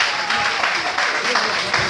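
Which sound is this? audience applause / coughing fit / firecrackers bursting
audience applause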